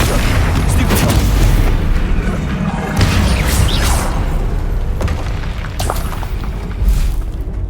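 Confringo blasting spell explosions in Hogwarts Legacy, several loud booming blasts at intervals over a rumbling game soundscape, with a voice talking over parts of it.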